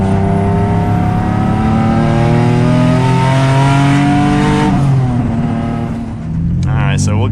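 A single-turbo Nissan 370Z pulls hard on full boost, its loud, rising engine note steady and close from inside the cabin, easing off near the end while a voice speaks over it.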